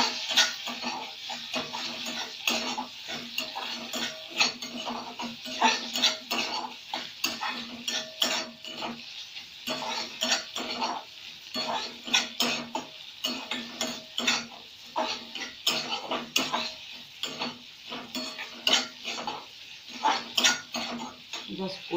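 Small potato pieces sautéed in a pan, a metal spatula scraping and knocking against the pan in quick irregular strokes over a faint sizzle, continuing steadily throughout.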